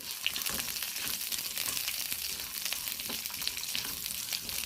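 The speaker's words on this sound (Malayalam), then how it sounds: "പച്ചമുളകും കൂടെ ഒന്ന് വഴറ്റിയെടുക്കാം" Drumsticks and green chillies sauté in a hot pan with steady sizzling and crackling, broadband hiss and occasional small pops, close and continuous with no voices.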